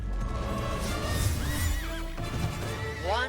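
A horse mount in the video game Highguard neighs and whinnies in rising and falling calls while hooves clop underneath, close and fairly loud over a steady rumbling background.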